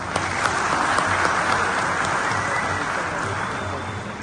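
Steady audience applause at an association election meeting in appreciation of the board, a dense continuous patter of many hands at even loudness.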